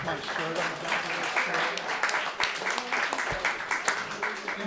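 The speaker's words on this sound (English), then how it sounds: "If that got applause, just wait." An audience applauds a jazz trio with dense, crackling claps filling the room. A voice can be heard faintly beneath the clapping.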